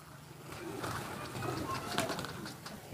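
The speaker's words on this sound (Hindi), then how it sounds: "आ गए जी कबूतर वापसी" Soft cooing of Qasid pigeons returning home, with bird calls over a steady outdoor background and faint voices in the distance.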